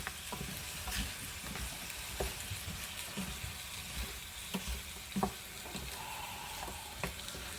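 Tagliatelle with small vegetables stirred in a frying pan: a steady sizzle runs underneath while a utensil scrapes and clacks against the pan in irregular strokes, close and moderately loud, with no talking.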